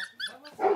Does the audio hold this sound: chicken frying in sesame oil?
no